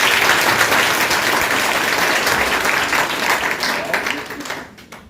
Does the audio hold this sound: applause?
yes